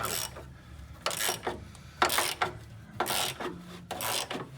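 A hand ratchet loosening the nut on the rear lower control arm bolt of a 1981 Pierre Cardin Evolution 1, heard as close, repeated bursts of rapid clicking strokes with short pauses between them.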